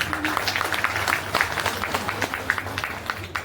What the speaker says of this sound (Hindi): कुछ लोग नहीं आए, उनके लिए ताली होनी चाहिए जोरदार।